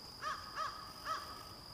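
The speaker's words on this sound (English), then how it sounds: "that's the crow. Yeah, I heard him, yeah." A crow caws three times outdoors, clear harsh calls spaced evenly over a couple of seconds, moderately near, with a steady high background hum and no talking.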